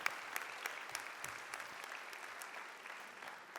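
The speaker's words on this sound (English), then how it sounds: "Class of 2029, give yourselves a round of applause for what you have achieved to get you to this point." At a Bowie State University fall convocation, the incoming Class of 2029 gives a round of applause, a continuous wash of many hands clapping in a large hall, fairly faint and distant.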